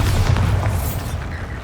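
A Bombarda spell blast in the video game Hogwarts Legacy: a single deep, rumbling boom that fades over under two seconds, with crumbling debris in the tail.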